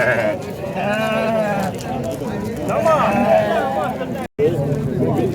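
Sheep and lambs bleat repeatedly at a busy livestock market in Xaçmaz, their wavering cries close and loud over steady crowd chatter and people talking.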